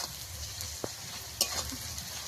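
Garlic and onion paste fries in a pan for a village-style chicken curry, giving a steady, close sizzle with a couple of sharp utensil clicks and no talking.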